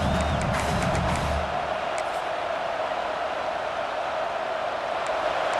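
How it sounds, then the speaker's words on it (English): A big stadium crowd in the EA Sports College Football 26 video game roars as the defense holds near the goal line, a steady dense wash of cheering noise that swells after a brief quieter start and never lets up. "this big crowd doing everything possible to inspire this defense down here near the goal line"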